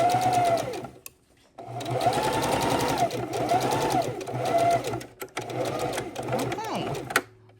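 A sewing machine stitches the side seam of an ergonomic neck bone pillow in steady close-up bursts, pausing briefly near the start and stopping just before the end, with a voice speaking over it.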